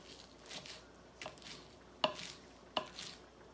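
A knife chopping fresh salsa ingredients on a cutting board, a few soft, uneven strokes followed by two sharp knocks, faint and close with a quiet kitchen background.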